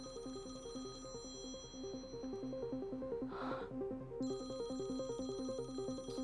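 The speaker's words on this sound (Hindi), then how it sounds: "घंटी बज रही है।" A mobile phone ringtone plays a repeating electronic melody, steady and continuous, with a brief rustling noise midway and no talking.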